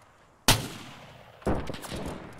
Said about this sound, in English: It's a machine gun!